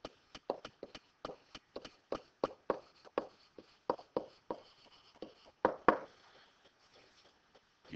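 A marker or pen writing on a board or paper, producing a steady run of quick close taps and scratchy strokes for several seconds, quiet and with no talk.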